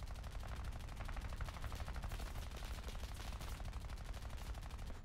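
Aircraft machine guns firing from a PB4Y-2 Privateer patrol bomber in a flight combat game, a steady rapid chatter of many guns in long unbroken bursts, fairly quiet and distant, with no talking.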